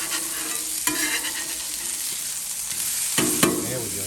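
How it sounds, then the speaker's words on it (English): Three-ounce smash burger patties sizzling on a hot griddle, a loud continuous fry with sharp metal spatula scrapes and presses standing out at intervals. "Go down with your 3-ounce patties, give them a smash"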